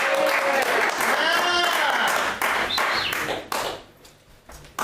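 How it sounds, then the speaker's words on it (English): Audience at a live polka show in San Francisco breaks into loud applause and cheers that hold for a few seconds, then taper and thin out toward the end. "Give yourselves all a round of applause."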